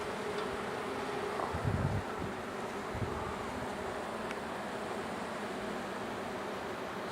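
Honey bees from a queenless hive, agitated while a frame is lifted during an inspection, keep up a steady, fairly close buzzing drone throughout, with a few brief louder swells and no voices.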